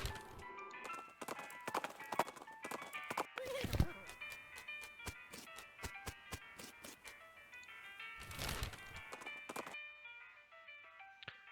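Rhythmic clip-clop of a bandit's horse galloping in the West of Loathing video game, sharp hoofbeats in a fast run over game music with chime-like tones, fading out near the end.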